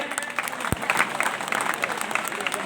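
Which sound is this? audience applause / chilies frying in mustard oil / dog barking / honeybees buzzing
audience applause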